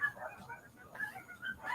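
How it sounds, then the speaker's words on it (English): A dog barks outdoors in a few short, muffled yips and whimpery barks spread across the moment, fairly faint and partly mixed with a voice. "You can hear him barking, right?"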